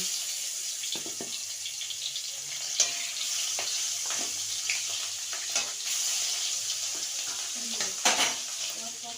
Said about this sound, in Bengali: তেল গরম হয়ে গেছে এবার মাছগুলো এক এক করে ভেজে নেব